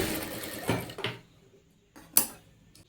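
A sewing machine stitching a sleeve runs in a few short, quiet bursts separated by pauses, each a brief mechanical whir, the last one the sharpest.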